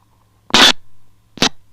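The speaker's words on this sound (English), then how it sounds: "the sound of a record being scratched." A record-scratch sound effect on a music radio show: two loud, noisy swipes, the first longer and the second short and sharp, heard alone against near silence.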